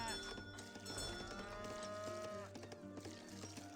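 Cattle moo in the Age of Empires 3 strategy game, a long drawn-out low call over a steady game soundtrack, faint overall.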